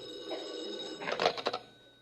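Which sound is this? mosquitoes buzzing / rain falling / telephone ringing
telephone ringing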